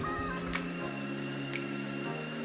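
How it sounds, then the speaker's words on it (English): A coffee grinder grinds coffee beans with a steady mechanical whir and faint ticking, close and continuous throughout. "First step, grind the coffee bean."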